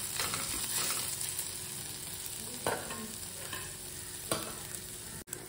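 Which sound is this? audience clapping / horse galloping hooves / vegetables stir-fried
vegetables stir-fried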